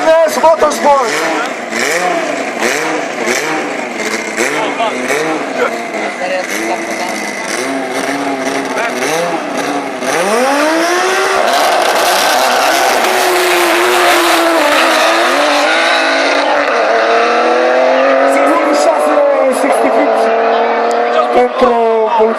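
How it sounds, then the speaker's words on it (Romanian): An Audi S2 race car from Bulgaria, entered by Madness Motorsport at a drag racing event in Tulcea, revs loudly on the line, then launches and accelerates hard through gear changes with tire squeal, while an announcer and crowd voices talk over it. "an Audi S2 from Bulgaria is announced to start"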